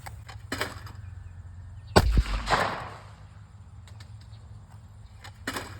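A Retay Ace semi-automatic waterfowl shotgun fires a 1-ounce shell outdoors: one sharp report with a short rumbling tail, heard somewhat distant and muffled, with a few faint knocks around it.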